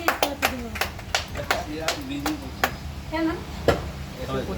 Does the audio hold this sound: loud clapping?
yes